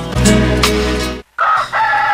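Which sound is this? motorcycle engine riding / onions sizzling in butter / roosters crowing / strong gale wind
roosters crowing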